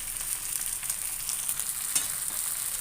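Wheat adai fries in a little oil on a hot pan, giving a steady close hiss and crackle of sizzling with tiny pops and no talk.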